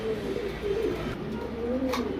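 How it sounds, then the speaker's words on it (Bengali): Large English pigeons coo close by, a low soft rolling coo repeating steadily over faint background noise. "বিগ সাইজের কবুতর ইংলিশ বারভুমা"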